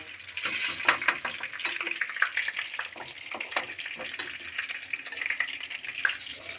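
Chicken pieces for satay fry in a pan with a steady, dense crackling sizzle, punctuated by sharper pops and spatters throughout, close and fairly loud with no voices.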